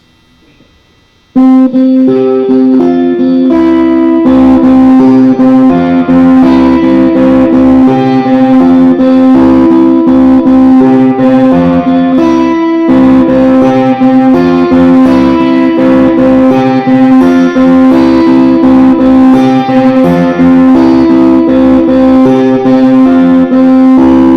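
A distorted electric guitar plays the sustained melodic lead part of "How Great Is Our God" over a steady droning backing, loud and continuous after a brief quiet start.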